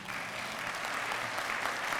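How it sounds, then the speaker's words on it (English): Applause from a gathered audience at an HCC event honoring Dr. Barry, a steady, moderately quiet wash of clapping that holds evenly throughout without voices. "Give that man a round of applause"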